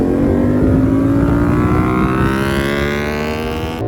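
Motorcycle engine revving loudly up close, a continuous strong roar with steadily climbing pitch that carries through the whole clip with no talk.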